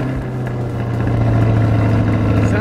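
A 2020 C8 Corvette with stock exhaust runs close by, a loud, steady engine drone with deep low rumble and a slight rise in revs toward the end, no speech over it.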